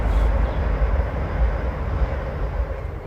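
A passing train gives a deep, steady rumble that fills the background at moderate volume and eases slightly toward the end.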